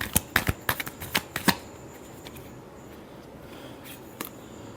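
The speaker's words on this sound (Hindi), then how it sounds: "कैप्रिकॉर्न आप ही की कार्ड लास्ट शफल करना।" A deck of tarot cards shuffled close by, with a rapid burst of crisp riffling flicks at the start, then quieter rustling and one last soft slap of cards.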